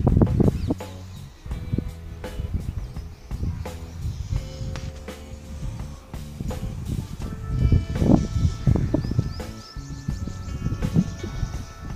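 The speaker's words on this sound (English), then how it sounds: "See, this bird is here only." Birds visit a home terrace during lockdown, giving repeated close clucking, cooing calls over a low rustling, busy background.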